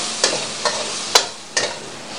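Prawn kapau stir-fried with white pepper powder in a hot pan, four short, loud scraping tosses over a steady sizzle.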